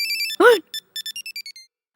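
A mobile phone ringtone chiming in a rapid series of bright electronic beeps, interrupted partway by a short vocal sound, then a quick descending run of tones; close and clear.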